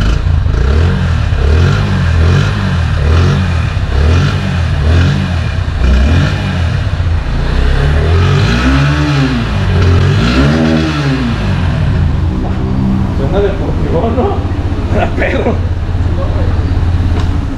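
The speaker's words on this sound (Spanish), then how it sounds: "Vamos a darle marcha para que escuchen el nuevo sonido del nuevo escape" A Honda CB190R motorcycle, a 2020 model fitted with a new aftermarket exhaust, idles loudly and then is revved repeatedly, with its pitch rising and falling in several sharp surges and speech mixed in over it.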